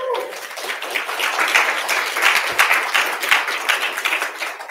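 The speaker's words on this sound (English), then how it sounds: "One more round of applause." Audience applause breaking out after a conference talk, a dense wash of hand claps that swells and holds steady across the room, with a faint voice briefly underneath at the start.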